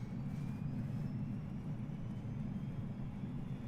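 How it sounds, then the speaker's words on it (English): The auxiliary power unit of a BAE 146 airliner in Microsoft Flight Simulator hums in a steady, low jet-engine drone with a faint rising whine above it, continuous and even with no voices. "So APU is spooling up."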